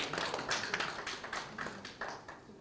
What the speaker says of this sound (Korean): 큰 박수로 한번 모시겠습니다